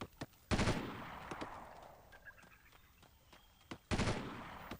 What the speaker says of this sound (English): My friends are shooting at them.